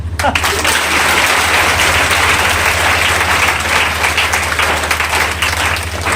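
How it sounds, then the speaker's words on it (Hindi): A live audience at a poetry recital applauds after a poem, sustained loud clapping for several seconds with a low steady hum beneath it. "कविता खत्म, ताली बजाओ।"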